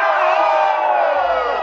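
A concert crowd at a show roars the call "Hana Ho" together, a loud, sustained wall of massed shouting and whooping close around.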